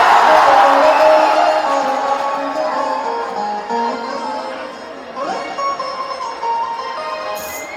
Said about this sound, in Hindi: एक जोरदार हल्ला करके इनके लिए ताली बजाओ